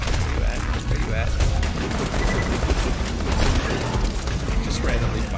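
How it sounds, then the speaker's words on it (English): Sustained rapid gunfire from Borderlands 2 weapons, dense overlapping shots and bursts with mechanical clatter, loud and continuous throughout, with players' voices mixed underneath. "Just randomly firing stuff at him"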